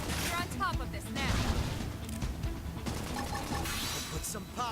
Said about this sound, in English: Now follow with some gunfire!